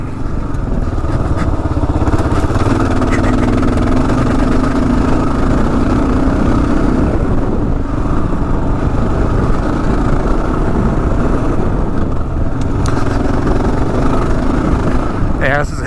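Kawasaki KLR 650 Gen 3 thumping up a dirt hill, a loud steady engine drone with the revs wavering as the clutch is worked, a rider talking over it throughout.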